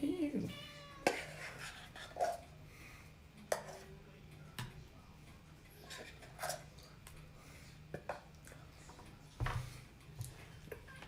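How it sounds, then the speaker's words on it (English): A cat meows in a home kitchen, a few short meows scattered among soft clatter and thumps of kitchen activity, with a person talking quietly at times. "That's crazy cat, that crazy cat. Meow."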